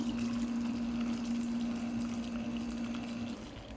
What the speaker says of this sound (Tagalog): lalagyan ko lang ito mga guys ng ng ito, mainit na tubig.